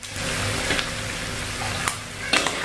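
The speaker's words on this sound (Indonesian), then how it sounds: "Nah, Ila mau angkat si ayam gorengnya." Chicken pieces sizzle in hot oil for ayam gepuk, a steady close crackle of frying with a few brief clinks and stirring sounds.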